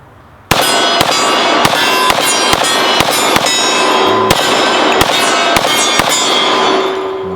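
Rapid handgun shots from a 10mm or .45 pistol, about a dozen sharp loud reports fired in a fast string, closely spaced with a few slightly longer gaps, ringing out near and alone.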